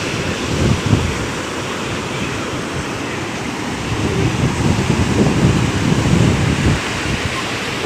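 Ocean waves break steadily on the beach at Mandarmani, a continuous loud wash of surf with gentle swells in intensity and some wind rumble over the microphone.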